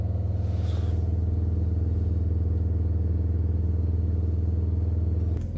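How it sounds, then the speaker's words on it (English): A stationary Volvo XC70 engine held at just under 3000 RPM during a diesel particulate filter regeneration gives a loud, steady, droning hum that stays even until it drops off at the very end. "We are stationary, we've got the revs up at just under 3000 RPM."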